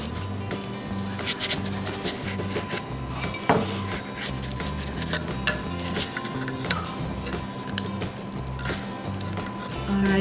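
Spatula scraping and clinking in a pan as a plant-based frittata made with Just Egg substitute cooks, with scattered metallic taps over steady low kitchen noise, close and moderately loud.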